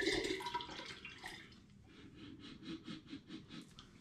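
Orange juice pours and drips into a home-brewing vessel for Aperol, a faint close trickle with irregular splashy drips.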